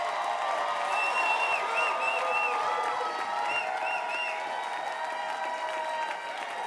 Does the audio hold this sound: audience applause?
yes